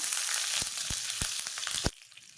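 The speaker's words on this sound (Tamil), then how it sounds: "கடுகும் சீரகம் பொரிஞ்சதுக்கப்புறம் கொஞ்சமாக கருவேப்பில வந்து சேர்த்துக்கிறேன்" Curry leaves spattering in hot oil with popped mustard seeds and cumin, a steady close sizzle with several sharp pops and crackles before it suddenly quietens.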